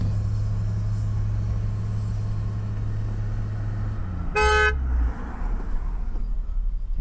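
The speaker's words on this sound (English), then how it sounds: "He's honking because they were in his way." A car horn gives a single short honk on a road, heard over the steady low rumble of idling vehicle engines nearby.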